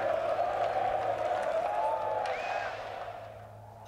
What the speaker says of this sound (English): They rise to their feet to applaud Justin Rose